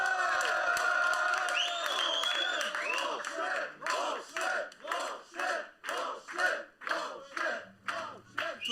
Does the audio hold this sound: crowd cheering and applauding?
yes